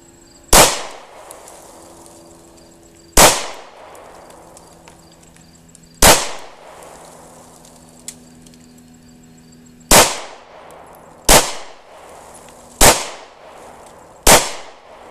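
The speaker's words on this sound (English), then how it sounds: "this is going to be the first time shooting the Ruger SR9C" Ruger SR9C compact pistol fired at a shooting range around 7 yards, seven sharp, loud single shots spaced a few seconds apart, each with a short ringing decay, plus a faint click between them.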